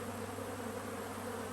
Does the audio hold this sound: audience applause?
no